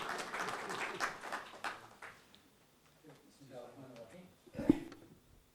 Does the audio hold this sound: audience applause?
yes